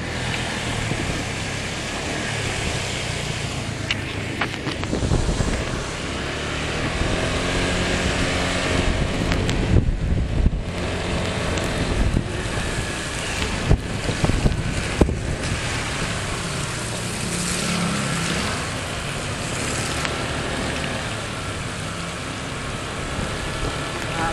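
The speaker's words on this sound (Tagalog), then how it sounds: "Hangin naman, wala naman po nakakita natin." Wind blows hard outdoors during rainy, stormy weather: a loud, continuous rushing roar with gusts swelling and easing throughout, and faint voices occasionally beneath it.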